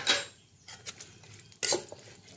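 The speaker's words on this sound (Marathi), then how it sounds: "बदाम परतून झालेत थोडेसे आता ह्याच्यात काजू घालूया" Almonds tossed in a pan while being roasted, with cashews going in, for date laddus: a few separate scraping, clattering bursts of a spoon against the pan with quiet gaps between them, close and fairly soft.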